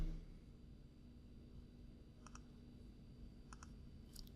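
A computer mouse clicks while editing in Photoshop, three quiet pairs of sharp clicks spaced about a second apart over a faint steady room hum.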